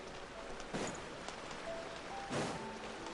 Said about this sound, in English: Oh, it's raining. I didn't think it could rain in cities.